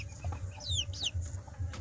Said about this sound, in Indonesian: hasil silangan si ayam joper sama ayam kampung tadi itu